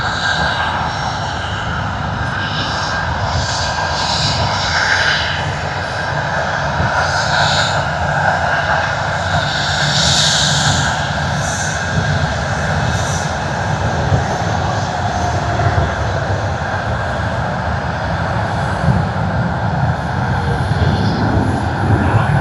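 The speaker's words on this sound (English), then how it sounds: "whilst we do get that Cebu Pacific out here, we'll capture a bit more of this taxiing action" A Cebu Pacific airliner taxis at Sydney Airport, its jet engines giving off a steady, loud roar with a whining hiss that holds evenly throughout, heard from nearby with no talking.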